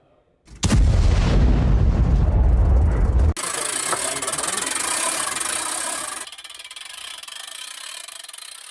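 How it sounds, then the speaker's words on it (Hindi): A Russian howitzer fires a shell: one loud, abrupt blast lasting nearly three seconds, then a sudden cut to lingering rumble and hiss that fades toward the end. "रूसी सेना ने यहां पर होवित्जर से गोले दागे हैं।"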